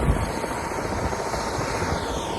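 A helicopter at the base camp helipad on a Himalayan trek near Machapuchare Base Camp gives a continuous, loud, broadband rotor and engine roar with rapid low thumping, close by and steady throughout, with no talking.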